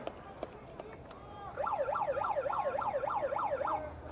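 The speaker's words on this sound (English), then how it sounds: "Not exactly sure who's running a megaphone siren, but I guess it's motivating." A megaphone siren blares in fast up-and-down whoops at a boys' high school soccer game between Livingston and Westfield, starting partway through and continuing for a couple of seconds, loud and close, after crowd noise and a commentator's voice.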